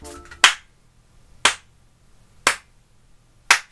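One person claps slowly and deliberately, four single sharp claps spaced about a second apart in an otherwise quiet room.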